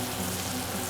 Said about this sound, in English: Now we will fry it.